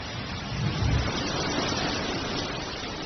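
Heavy thunderstorm rain pours down in a steady dense hiss, a continuous loud wash of noise with a brief low rumble swelling near the start, no voices.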